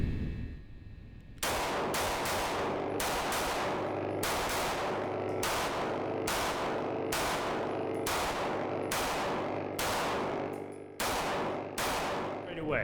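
A Walther PDP F pistol fires roughly fifteen sharp, loud shots at a steady, evenly spaced pace, each crack ringing briefly before the next.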